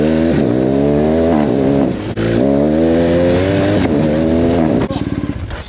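BMW R 1250 GSA Rallye motorcycle engine revs hard and close, climbing and dropping in repeated throttle sweeps with a brief cut midway and a stuttering end.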